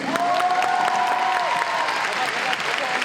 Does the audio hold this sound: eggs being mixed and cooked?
no